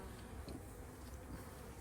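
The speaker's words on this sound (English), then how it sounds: "we got some bees that are working and cleaning this frame up as well" Honey bees work over a hive frame during an inspection, making a faint, continuous buzzing hum close by, with no voices.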